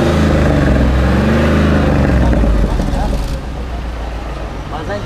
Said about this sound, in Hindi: इसका साउंड सबसे पहले आपको सुनाता हूँ इंजन का